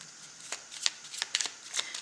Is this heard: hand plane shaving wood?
no